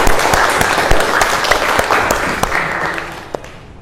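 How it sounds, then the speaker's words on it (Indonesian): A class of madrasah students claps for a classmate, Sarantika, during a lesson: a loud, dense burst of many hands that gradually thins and fades toward the end. "Ayo kita tepuk tangan untuk Sarantika"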